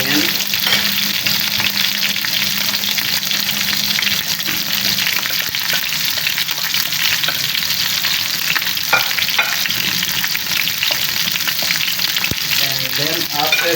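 Onions frying in hot oil for a fish dal curry make a loud, steady crackling sizzle that runs nonstop, with occasional stirring scrapes and no voices.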